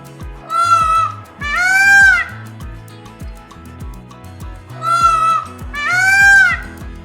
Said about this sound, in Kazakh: Тауыз.